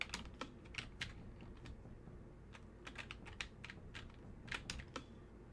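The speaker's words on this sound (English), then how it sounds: "Oh, cool, a typewriter." Typewriter keys struck in a spooky basement in a horror video game, a run of sharp irregular clacks in bursts with pauses, moderately close and alone.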